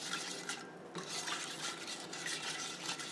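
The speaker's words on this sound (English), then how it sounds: "We just want to keep stirring it until we get this to a boil." Cornstarch, sugar and water stirred in a pot over low heat for strawberry pie filling, a steady soft scraping and swishing of the spoon that runs continuously with no talk.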